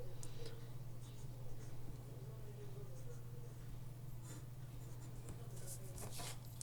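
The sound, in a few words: writing out an equation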